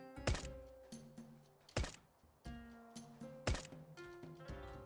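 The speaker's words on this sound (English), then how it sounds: "There's a shooting range. The guy's just shooting." Gunfire at a shooting range in Last Day on Earth: three sharp single shots spaced about a second and a half apart, each with a quick decay, over a quiet tonal game background.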